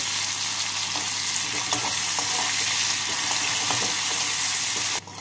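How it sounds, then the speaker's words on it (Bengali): Finely chopped onion frying in hot oil with black cumin seeds, browning in a pan for fish curry; a steady dense sizzle, close and loud, with faint stirring clicks throughout, alone. "পেঁয়াজটাকে লাল করে ভেজে নেব।"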